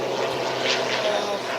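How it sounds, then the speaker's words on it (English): A propeller airplane drones overhead during a hot week of bushfires, a steady broadband engine roar that stays fairly constant across the short stretch, with no voices. "planes going over all the time"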